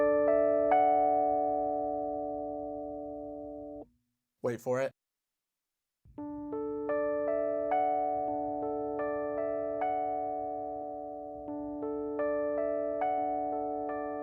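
A looped Rhodes electric piano run through a Soma Cosmos pedal, repeating soft chord swells in a slow chaotic ambient wash, cutting out briefly to silence before resuming, with a short spoken interjection in the gap.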